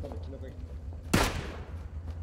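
A single burst of gunfire in the battle royale game PUBG cracks out loud in a short broadband spike, set against a low steady background hum, with a voice speaking around it.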